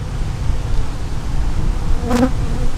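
Honeybees buzzing loudly around a weak hive as a nuc of bees is added, a dense, steady close-up drone from many insects with one bee briefly passing very near.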